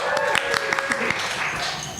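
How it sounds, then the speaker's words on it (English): Applause from a live comedy podcast audience, a short burst of claps and cheers with voices mixed in, fading after about two seconds. "That's the applause he's ever had in his life."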